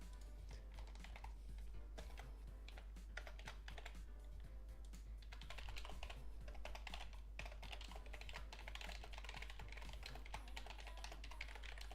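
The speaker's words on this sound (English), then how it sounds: "if you can hear me typing, I'm sorry." Rapid clicking of keys on a computer keyboard, steady bursts of close typing over a low hum, with no one speaking.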